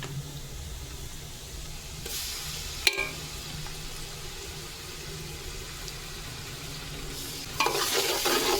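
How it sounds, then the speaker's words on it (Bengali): Onion and garlic paste frying in oil in a large pot gives a steady close sizzle, with a sharp scrape of stirring midway and a louder crackling surge near the end. "তেলের মধ্যে এখন পেঁয়াজ দিয়ে দিয়েছি, এটা ভাজবো।"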